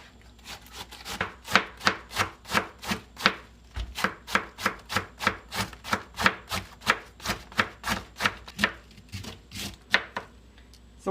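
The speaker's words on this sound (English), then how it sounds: "So once you finish cutting the cabbage" A knife thinly shreds cabbage for Salvadoran curtido, each cut landing as a crisp chop on the board in a steady rhythm of roughly two strokes per second, with no other sounds around it.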